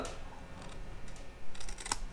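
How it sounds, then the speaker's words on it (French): Scissors snip through paper while a scrapbooking gift box is made, giving a few quiet, separate crisp cuts close by, with soft handling noise between them and no talk. "Ensuite, on prend notre paire de ciseaux."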